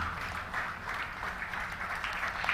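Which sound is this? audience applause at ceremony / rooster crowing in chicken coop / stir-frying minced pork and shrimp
audience applause at ceremony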